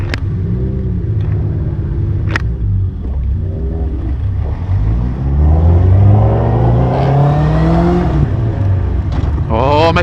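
Hayabusa-powered Westfield car pulling onto the track at Forge Action Day, engine revving and climbing in pitch through the gears, loud and close, with brief sharp clicks and knocks.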